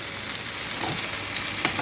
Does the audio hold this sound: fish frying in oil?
yes